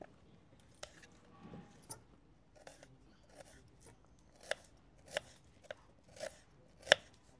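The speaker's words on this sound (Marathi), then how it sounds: "चला आता मटन पुलाव बनवण्यासाठी आपण कांदे कापून घेऊ।" Onions being sliced thin lengthwise with a knife for mutton pulao, a series of crisp, fairly quiet cuts that come faster and louder toward the end.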